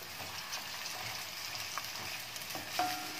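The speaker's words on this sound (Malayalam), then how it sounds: "ഇഞ്ചി ഇട്ട് കൊടുക്കാം ഇതിലേക്ക് അരിഞ്ഞു വെച്ചിരിക്കുന്ന ഇഞ്ചി" Chopped ginger, half a kilo of it, frying in a pan for Onam sadhya inji curry: soft continuous sizzle with light stirring scrapes and a brief metallic clink near the end.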